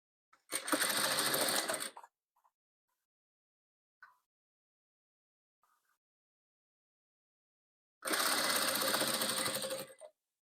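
Sewing machine stitching rows of a patchwork quilt, running in two steady bursts of about a second and two seconds separated by near silence with a few faint clicks.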